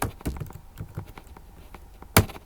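A command is typed on a computer keyboard in the Windows command prompt as a quick run of close, crisp key taps, ending with one louder keystroke.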